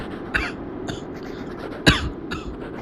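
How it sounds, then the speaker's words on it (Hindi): Two or three short coughs, one sharper and louder than the others, spaced apart against a quiet background. "मैंने बाहर से ही खांसने का एक्टिंग किया।"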